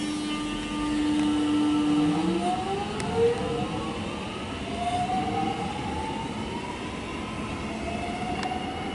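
A Melbourne suburban train departs Glenferrie station on a quiet evening, its electric motors whining upward in pitch as it pulls away, heard from the platform at moderate distance.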